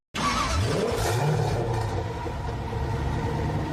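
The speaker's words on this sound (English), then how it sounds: "we are officially the last cold start of the Bronco Raptor in my garage" A Ford Bronco Raptor cold-starts in a garage, its engine catching abruptly and roaring loudly into a rev before settling into a steady, heavy rumble.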